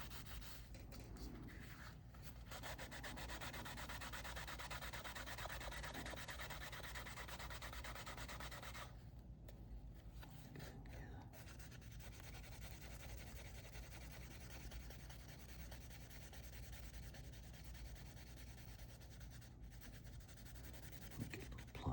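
Leather for a small bifold wallet being rubbed by hand: a soft, continuous, close scraping and rubbing with short pauses, quiet and with no talking.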